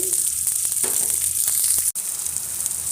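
A few garlic cloves hit hot oil in a pan alongside curry leaves, giving a close, steady sizzle with scattered crackles and a brief dropout near the end, no one speaking.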